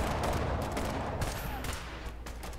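Continuous crackling bursts of weapon fire in the video game Fallout Shelter, steady and fairly loud throughout, with brief snatches of voice.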